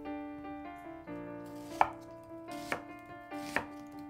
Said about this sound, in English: Slice the onion along the grain into half-inch slices.